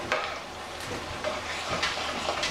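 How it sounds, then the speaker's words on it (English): A spoon works through pasta cooking in a pan, giving a close, repeated scraping stir over a soft steady sizzle, with a few sharper strokes spread across the stretch and no speech. "Let me give it a nice stir."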